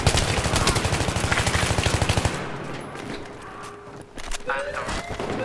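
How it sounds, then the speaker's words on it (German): Rapid automatic gunfire in Battlefield 3 multiplayer rattles loud and fast for about two seconds, then gives way to quieter scattered battlefield noise and a few distant shots. "Schießen die denn alle?"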